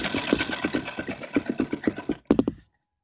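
A sewing machine runs in a quick, even stitching rhythm while sewing a heavy-work traditional dress, loud and close, then stops briefly, restarts for a short burst and falls silent.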